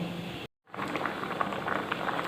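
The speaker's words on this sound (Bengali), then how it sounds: "দিয়ে দিলাম গরম জল এটা ফুটতে থাকুক" Hot water simmers with lentils in a pot for khichuri, a steady close bubbling and fizzing that cuts out for a moment near the start and then continues evenly.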